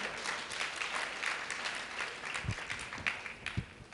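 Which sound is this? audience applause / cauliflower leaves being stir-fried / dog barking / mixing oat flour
audience applause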